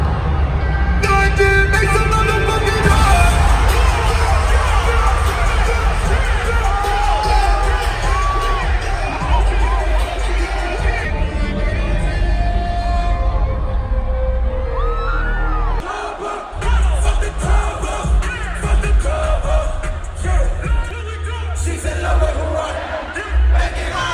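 A huge standing crowd at a concert at the O2 roars and cheers continuously and loudly, with shouts and honking toots in the mix, dipping briefly before surging again.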